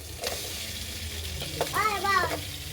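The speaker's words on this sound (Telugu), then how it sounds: "అన్నీ వేగాయి ఇప్పుడు తలకాయ మాకు వేసుకుందాం" Goat head meat sizzles in a pan over a wood-fired stove with ginger-garlic paste, green chillies and onions, a steady frying hiss running throughout while a voice briefly rises over it.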